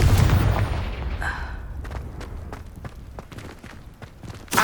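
A Confringo fire spell blast in Hogwarts Legacy: a loud burst opens, followed by scattered impacts and footstep-like thuds, ending on another sharp hit.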